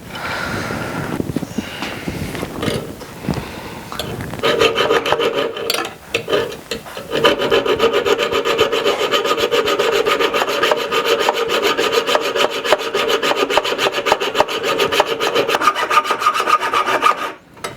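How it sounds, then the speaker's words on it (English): A hacksaw cuts through a bolt with repeated close rasping strokes, irregular at first and then a fast steady rhythm, loud and without talk. "actually cut this bolt off so everything is safe"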